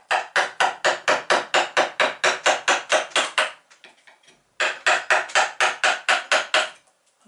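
A wood chisel shaving wood while a toy boat is built: a steady run of sharp, evenly spaced scraping strokes, close and clear, a brief pause, then another quick regular series of strokes.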